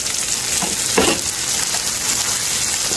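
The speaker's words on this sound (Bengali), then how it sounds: "এখন আমি এই পেঁয়াজের সাথে একটু ভালো করে ভেজে নেব" Onions and tomato frying in oil for prawn dopiaza, a continuous loud sizzle with crackling bursts and a brief stir near the one-second mark.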